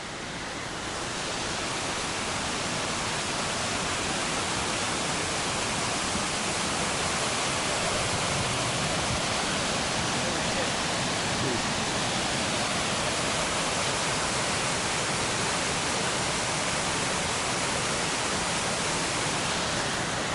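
Steady, loud rushing water fills the whole stretch, a constant roar of a mountain stream cascading over rocks on the Pacific Crest Trail, with no voices.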